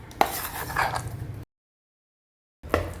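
Ground raw rice batter being mixed in a bowl, with a short burst of close spoon scraping and clinking, a silent gap, then more stirring.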